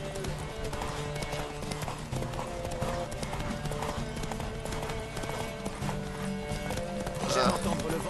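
Rhythmic hoofbeats of a galloping horse in The Witcher 3 video game thud steadily beneath a person talking, with a brief whinny-like burst near the end.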